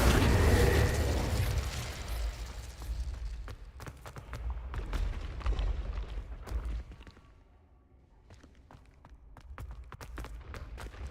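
In Hogwarts Legacy, an Incendio fire spell goes off with a loud roaring whoosh at the start that fades into crackles, sharp impacts and scattered clicks.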